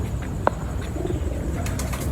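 A fancier's flock of pigeons in a loft coo softly in a low murmur beneath louder ambient noise, with a sharp brief knock near the start and what may be wing flaps.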